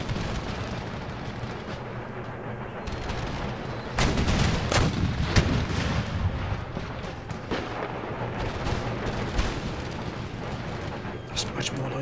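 Artillery volleys in Empire: Total War, a continuous rumbling wash of booming cannon fire with heavier blasts swelling in partway through, steady and dense rather than isolated shots.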